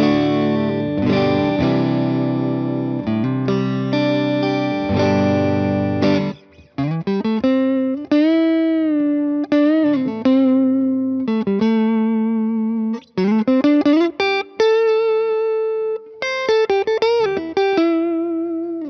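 Electric guitar on the neck pickup through an effects unit with a warm, rounded tone: strummed distorted chords first, then single-note melodic lines with sustained notes and brief pauses.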